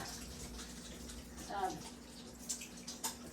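Hands are rinsed under a running tap in a home kitchen while making chocolate popcorn cakes. A soft, steady trickle of water runs throughout with faint splashes and a few small clinks.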